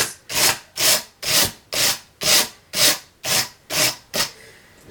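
Brush strokes combing hand-dyed wool fiber on a blending board, eight or nine regular rasping swipes about half a second apart, close and fairly loud with no talking.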